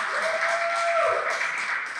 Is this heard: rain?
no